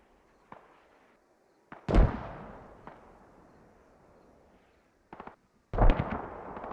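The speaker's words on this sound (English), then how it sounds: "The Americans are trying to mortar down that radio." Mortar rounds fired by a team in a military shooter game on the Yehorivka map land as a series of sharp booms. Two heavy blasts roll off into long echoing tails, with lighter thumps in between.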